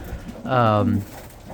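A single pigeon coos once, a soft, low, throaty call lasting about half a second, close by, with faint background noise around it.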